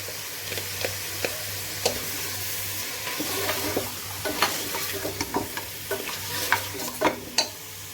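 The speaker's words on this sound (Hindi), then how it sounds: "अब इसको मैं भून लूंगी जब तक कि गोश्त का कलर जो है वो चेंज नहीं हो जाता।" Mutton with ginger garlic paste frying in a pan, steady close sizzle under repeated scraping stirs of a spoon, sharp scrapes recurring every second or so over a low background hum, no speech.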